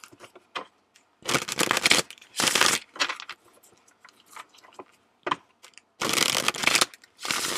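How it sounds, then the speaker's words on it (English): Tarot cards being shuffled in several bursts of dense riffling and flapping, each lasting about a second, separated by quieter handling and tapping. "Let's shuffle cards out for that."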